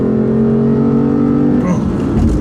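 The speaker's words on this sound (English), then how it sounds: "there goes a big V8. Love the sound, let you listen." A 2015 Lexus RC F's V8 pulls hard under acceleration, a loud, steady, rising engine drone that shifts in tone near the end as the car powers on.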